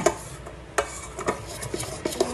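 A utensil stirs hot cake batter in a bowl with soft scrapes and small irregular taps, close and fairly steady.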